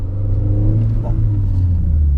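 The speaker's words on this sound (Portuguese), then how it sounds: "Vamos tentar arrancar aqui em primeira marcha," A Renault Sandero RS Racing Spirit pulls away in first gear, its engine giving a low, steady rumble close by with only a modest rise in revs.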